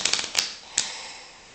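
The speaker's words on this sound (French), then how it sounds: "Et je vais faire maintenant un mélange américain. Pour bien mélanger le paquet." A deck of playing cards is riffle shuffled during a magic trick, making a quick close flutter of rapid card snaps. A brief riffle is followed by a second short burst, then a fading rustle, with no talk.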